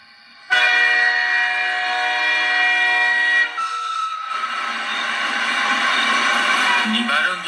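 Train arriving at a station at night during the rainy season, in a cartoon: a loud sustained horn bursts in, then gives way to a rolling rumble of the cars.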